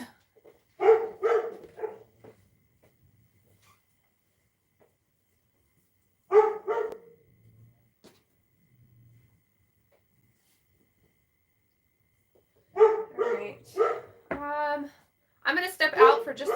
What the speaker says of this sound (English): I don't know if you guys can still hear him barking